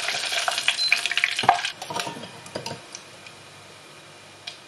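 Cooked rice grains dropped into hot frying oil for crispy fried rice with salted fish, giving a loud, dense sizzle that crackles busily for a couple of seconds and then fades to faint scattered pops.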